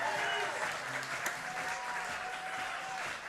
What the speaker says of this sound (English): when you get a round of applause from them, you know you've had a good night